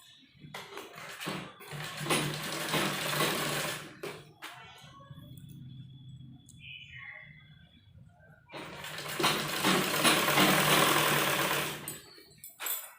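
A sewing machine stitches fabric for a pair of gents' underwear, with two loud, dense bursts of whirring stitching separated by a quieter pause, close and steady.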